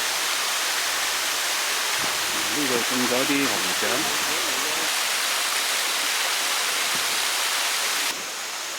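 An artificial waterfall pours in a steady, loud, hissing rush that fills the scene, while someone speaks briefly over it partway through.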